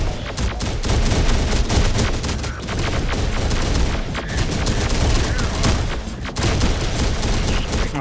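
Dense, loud volleys of gunfire in the video game Terminator: Dark Fate - Defiance, continuous overlapping shots and booms with brief lulls, and a voice talking faintly underneath.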